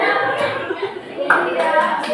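Children in a classroom clapping hands on cue during a counting and breathing exercise, a few short, close claps among kids' voices and a chuckle.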